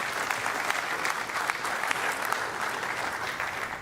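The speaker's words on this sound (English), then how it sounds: "It's okay to clap." Steady applause from a crowd at a PBA bowling playoff quarterfinal, dense and continuous throughout with a few sharper claps standing out, fairly close and loud.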